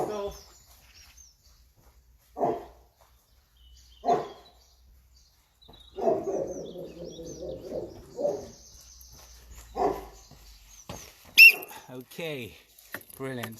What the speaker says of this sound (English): I know the dog's barking on the other side